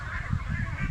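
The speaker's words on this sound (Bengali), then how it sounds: "পুকুরের ওই সাইডে এখানে অনেকগুলো হাঁস আছে।" A flock of domestic ducks on a farm pond gives a steady run of nasal, honking calls that overlap continuously, fairly close and moderately loud, with no talking.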